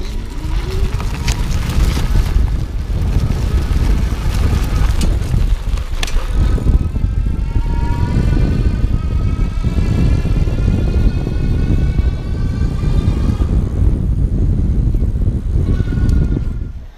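Pedego Classic Interceptor e-bike with a Dapu geared hub motor running on a sidewalk, a loud continuous whir with rising and falling whine as it spins up, close and alone.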